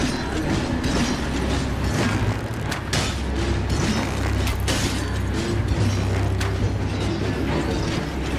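Crystal cracking in the video game Elden Ring during a fight in the Academy Crystal Cave, a continuous grinding, creaking mechanical texture with scattered sharp crackles and thuds, loud and steady throughout.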